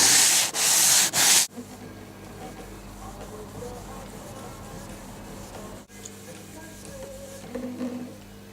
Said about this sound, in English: It took a few more coats and some wet sanding in between to get a nice smooth finish.